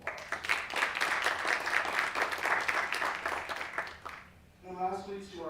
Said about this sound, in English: So let's give the program a round of applause.